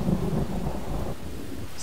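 Heavy rain pours across an open field while a deep rumble of thunder rolls through, a dense, loud broadband wash with no voices.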